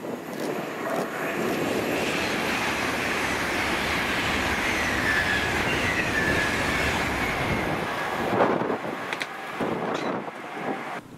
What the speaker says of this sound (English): this is 1E13, the 1140 London North Eastern Railway service to London King's Cross from Inverness with 800-113